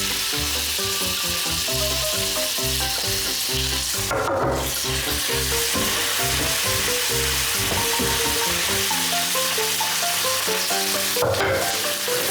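Onions and chicken fry in a pan for a chicken curry, giving a constant, even sizzle throughout with a steady tonal hum running underneath and two brief louder hissing flares.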